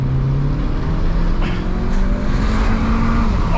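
A 2011 Volkswagen Polo GTI, 180 hp with DSG gearbox, pulls hard under acceleration with its wheels spinning, a loud steady engine drone heard from inside the car throughout.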